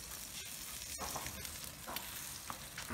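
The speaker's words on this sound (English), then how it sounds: "Do some more basting" Beer can chicken cooking on a Weber barbecue and being basted, with steady close sizzling and spitting fat plus a few soft brushing and handling sounds, no talking.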